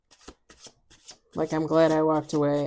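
A deck of tarot cards is shuffled in a few quick, crisp riffling bursts close by, then a person talks over the end of the shuffle.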